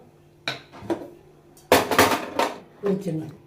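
A metal lid clatters off a pot of mutton bone soup, with a few sharp clanks and scrapes of metal on metal, close and loud, separated by brief pauses.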